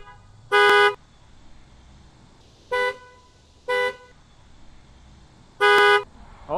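Upgraded horns salvaged from a junkyard blare on a truck from about twenty feet away: four loud, brassy honks, two longer and two short blips, with quiet pauses between.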